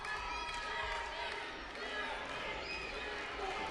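A packed wrestling arena crowd chanting, a continuous roaring wall of voices with rhythmic swells, slightly distant, under a commentator's talk.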